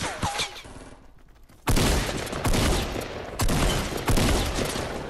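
Loud bursts of rapid gunfire from the video game Fortnite, with a brief lull before heavy volleys resume and continue to the end, with no voices.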